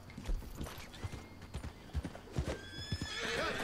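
A horse in Red Dead Redemption 2 gallops with rhythmic, thudding clip-clop hoofbeats at close range, then lets out a whinny toward the end.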